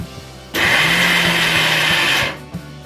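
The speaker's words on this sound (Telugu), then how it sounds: "వేసి మళ్ళీ అన్నీ మిక్సీ పట్టుకోవాలి" A mixer grinder whirs loudly for about two seconds as it grinds roasted peanut powder with garlic, cumin, salt and chilli, starting abruptly and cutting off, with a low motor hum before and after.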